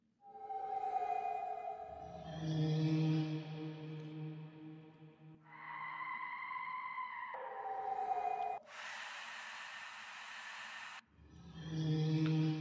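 Spooky sound effects from a Kashmir sample pack for a Bollywood-style beat: eerie sliding tones, hollow sustained drones and a burst of bright noise, layered one after another at moderate level with no speech.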